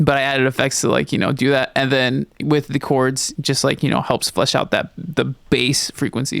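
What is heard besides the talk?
No everyday noises stand out.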